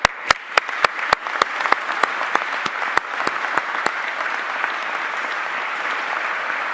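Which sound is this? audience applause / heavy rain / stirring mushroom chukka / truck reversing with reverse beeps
audience applause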